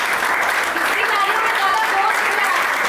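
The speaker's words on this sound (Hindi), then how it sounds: "एक बार जोरदार तालियां।" An award ceremony crowd claps steadily and loudly, a dense wash of applause lasting the whole moment.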